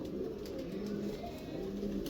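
Pigeons cooing in a loft, a steady low murmur of overlapping coos running throughout, close and continuous with no talk.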